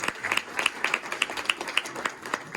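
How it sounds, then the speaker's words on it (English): Sparse clapping from a small crowd at a Republican county commission campaign kickoff in Knoxville, uneven and fairly faint, with a few distinct claps standing out. "Can I get an applause for that?"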